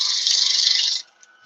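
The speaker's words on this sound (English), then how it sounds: "Now I'm cutting spindle grain and cross grain along here." A steady, bright scraping hiss of a carving blade cutting spindle and cross grain wood for about a second, then it stops, leaving faint small ticks.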